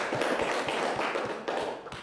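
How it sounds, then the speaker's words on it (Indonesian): Students in a classroom applaud a classmate, a brief patter of light clapping, fairly soft and slightly distant, with a faint rhythmic tap running under it. "silakan tepuk tangan untuk temannya dulu"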